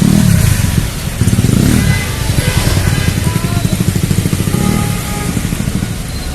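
Motorcycles rev and pass one after another on Jalan Juanda in Central Jakarta as traffic disperses after the 80th TNI anniversary, loud close engine drones swelling and fading in dense street noise.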